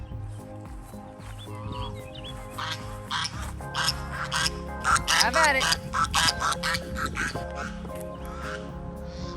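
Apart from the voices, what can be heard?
chickens fed garden scraps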